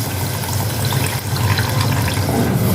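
Thick tamarind water poured into a simmering South Indian sundaikkai vathal gravy, a steady close splashing, gurgling pour lasting several seconds with no talk.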